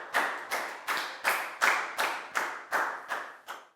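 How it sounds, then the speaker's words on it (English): Children in a Year 4 maths classroom clap in unison, eight crisp, evenly spaced claps about half a second apart, close and fairly quiet with no talking. "High five and a big round of applause for Lakgao"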